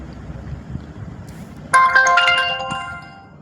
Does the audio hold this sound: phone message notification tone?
yes